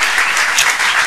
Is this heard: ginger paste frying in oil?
no